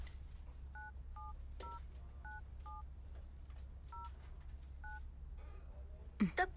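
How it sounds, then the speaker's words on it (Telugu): A phone number is dialed and a call goes unanswered. About a dozen soft two-tone keypad beeps come one at a time over a steady low hum, followed by a brief clattering burst at the end. "The person you're calling is not answering."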